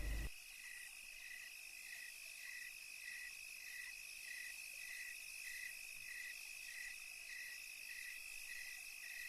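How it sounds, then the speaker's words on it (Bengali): Crickets chirp in a dark jungle at night, an unbroken, evenly pulsed high trill repeating steadily throughout, fairly quiet and with no voices. "নিশি কালো অন্ধকারের মাঝে শুধু ঝিঝি পোকার ডাক কানে ভেসে আসছে।"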